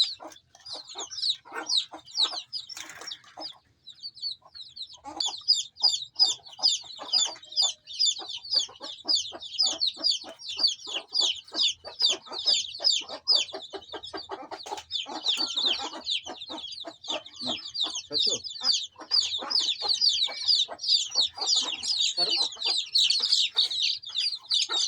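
Chickens cluck and squawk almost nonstop during a vaccination, a dense, close flock chorus of sharp repeated calls that keeps going throughout with no talk.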